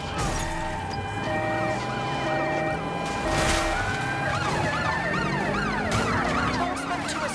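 Wailing and yelping ambulance and police sirens from the Watch Dogs Legion video game rise and fall over steady street rumble, loud and continuous, with several siren tones overlapping.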